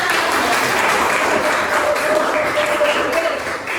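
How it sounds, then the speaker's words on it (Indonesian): Applause fills a biology classroom lesson on viruses and HIV, a steady wash of many hands clapping together at close range, holding at an even level for several seconds with no voices standing out. "Oke, tepuk tangan untuk kita semua."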